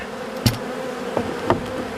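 Inside an opened honeybee hive at midday, a steady close buzz of many bees continues, broken by three brief knocks from frames or tools.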